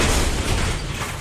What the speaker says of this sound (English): the sugar dust contacted a nearby ignition source, likely an overheated bearing,